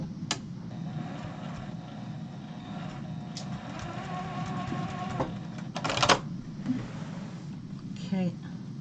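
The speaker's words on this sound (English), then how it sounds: "I think I'm just gonna sew it all down" A sewing machine stitches down a quilt, its fast mechanical needle chatter running in bursts with a few clicks and knocks while a person talks over it.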